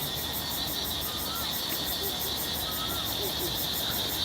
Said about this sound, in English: the cicadas are taking over the park